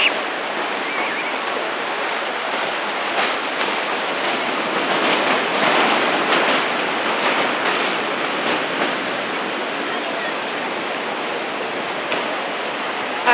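Ocean waves breaking close by as someone wades toward them, a steady loud wash of surf that swells and subsides, with no talking.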